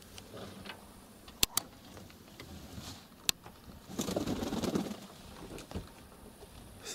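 Feral rock pigeons taking off and landing outdoors in a village: a few sharp wing claps, then a brief flurry of flapping, fairly faint against a quiet background.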